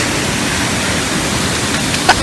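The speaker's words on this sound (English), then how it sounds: "Oh, he's splashing me too." Steady splashing and churning water at a water park, a broad wash of noise with a couple of louder splashes near the end.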